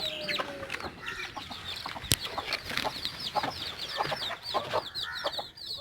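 A flock of native hens, Aseel crosses and Karinkozhi chickens clucks and chatters almost continuously, with many overlapping calls close by and one sharp knock partway through.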